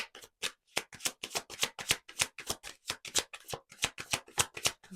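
Tarot cards are shuffled by hand in a quiet room, a rapid run of crisp riffling bursts in a steady rhythm, close and clear with no talking.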